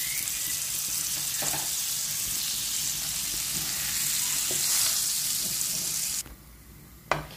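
French toast fries in butter in a pan with a steady, bright sizzle for about six seconds, then the sound drops away, ending in a couple of soft clinks.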